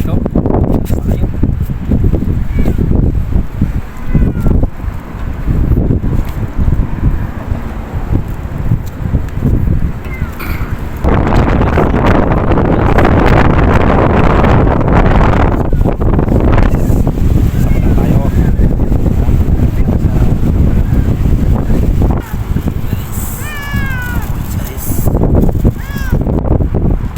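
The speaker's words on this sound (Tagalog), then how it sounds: "Mahangin guys." Strong wind buffets the microphone outdoors at night on a fishing trip in Abu Dhabi, a loud, steady roar with gusty surges, under intermittent speech.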